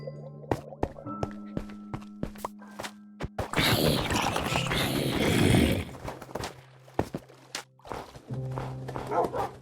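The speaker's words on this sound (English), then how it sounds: "My doggies are fighting." Pet dogs fighting in Minecraft Bedrock, a series of sharp barks and yips followed by a dense, noisy scuffle of growls and thuds lasting a couple of seconds, then scattered barks again.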